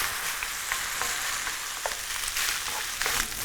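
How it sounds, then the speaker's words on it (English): Lamb mince frying and browning in a hot pan, a steady close sizzle with crackles and small pops as a spoon breaks it up and stirs it, no talking. "So what I'm doing with the lamb mince, I'm just with the back of the spoon kind of breaking it down, and that just helps it cook and brown evenly"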